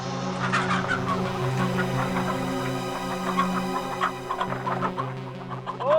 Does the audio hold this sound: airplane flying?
no